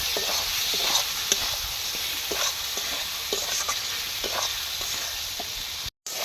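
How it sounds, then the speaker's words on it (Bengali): Meat masala fries in hot oil with a steady close sizzle, punctuated by repeated soft scrapes and taps of a spatula stirring the pan, continuing evenly with a brief dropout near the end. "মশলাটা পাক খাইয়ে তেল ছেড়েছে"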